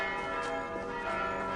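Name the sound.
church bells ringing in the video game Assassin's Creed Valhalla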